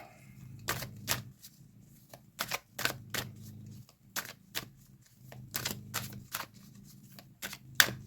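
Playing cards laid down one by one on a table, giving a series of sharp, distinct snaps and flicks at an irregular pace, close and fairly quiet, with a soft low room hum beneath.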